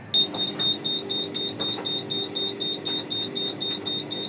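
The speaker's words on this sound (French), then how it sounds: "Il y a une alarme qui déconne." A malfunctioning high electronic alarm beeps rapidly and continuously in a steady rhythm overhead, over a murmuring indoor background with faint clatter.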